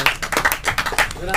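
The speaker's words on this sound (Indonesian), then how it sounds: "Tepuk tangan sekali lagi biar nggak ngantuk." Short burst of audience clapping at an Indonesian theatre group's monologue discussion, several quick irregular bursts of hand claps, fairly close, with a voice heard alongside.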